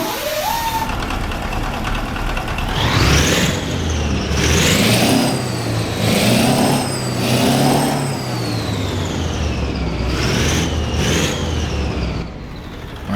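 Cold start of a Peterbilt 359 truck's CAT 3408 V8 diesel, rendered in a trucking video game: a brief starter whine, then a steady, loud engine rumble with a couple of rising revs before it settles toward idle.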